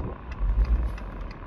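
Cars idle and creep in nearby traffic, a low rumbling engine drone with faint swells and passing hiss, close and moderately loud.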